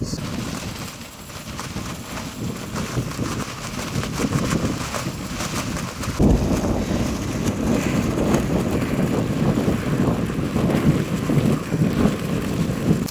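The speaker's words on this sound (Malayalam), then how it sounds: "അത്യാവശ്യം നല്ല കാറ്റുണ്ട് ഇവിടെ" Strong wind on a mountain, Kerinci volcano, roars and buffets continuously, gusting against the microphone with a low, rumbling rush and no voices.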